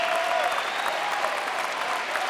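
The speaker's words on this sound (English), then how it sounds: "The crowd's going to erupt." A squash crowd at the U.S. Open 2019 women's final breaks into loud, sustained applause after a rally, dense clapping close and continuous throughout.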